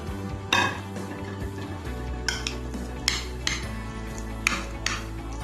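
Carrot salad with walnut tarator stirred in a bowl, a few sharp utensil clinks and scrapes standing out over a steady low hum, close and fairly quiet.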